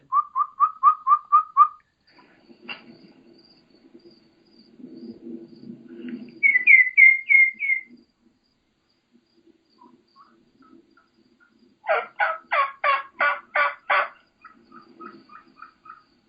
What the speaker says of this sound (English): So it's high, very, very high pitched, almost, flute-like or almost songbird-like, and very, very fast paced